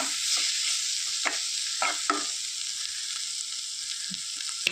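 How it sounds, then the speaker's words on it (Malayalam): Tomatoes stirred into a mushroom masala in a pan over a steady bright sizzle, with a few soft scraping strokes of the spoon at irregular intervals and no voices. "തക്കാളിയൊക്കെ ചേർത്ത് നന്നായിട്ടൊന്ന് ഇളക്കി യോജിപ്പിക്കുക"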